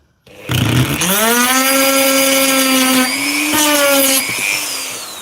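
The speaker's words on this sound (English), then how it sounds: "I'm giving it a clean with the Dremel first." A Dremel rotary tool cleans up a part from an angle grinder under repair, spinning up to a loud, steady high-pitched whine that dips briefly in pitch under load, then winds down near the end.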